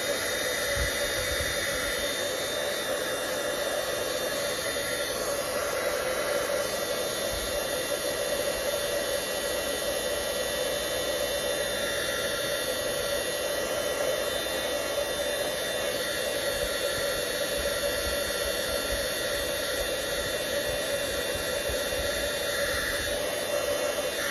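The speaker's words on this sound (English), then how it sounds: "now once again you can heat set it if you want to, like with your tool" A heat tool blows continuously to heat set embossing on vellum, a loud, steady hair-dryer whoosh with a faint high whine that holds unbroken throughout, close up and alone.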